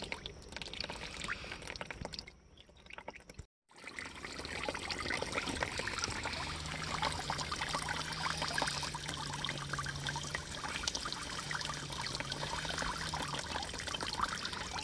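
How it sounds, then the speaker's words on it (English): A small 300-gallon-per-hour pond pump trickles and pours water steadily in a garden pond, a continuous splashing flow with a brief dropout partway and a low hum underneath. "300 gallons per hour pump."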